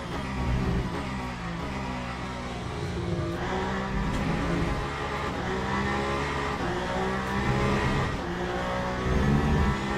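A Glickenhaus prototype race car engine in the racing game Le Mans Ultimate at Imola drones steadily as it revs up and down for the whole stretch, loud and continuous, with no talk over it.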